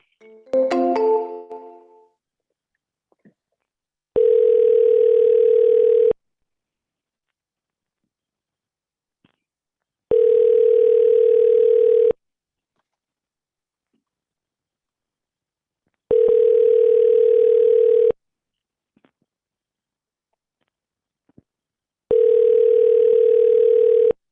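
Telephone line tone on an outbound call: a steady pure tone about two seconds long repeats four times with about four seconds of silence between each, after a short burst of a voice at the start.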